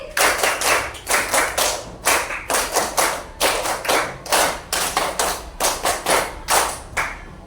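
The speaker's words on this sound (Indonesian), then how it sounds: "Tepuk lima 3 kali." A classroom of students claps a patterned rhythm, repeated groups of quick, sharp claps separated by short pauses, loud and close, with no talking over it.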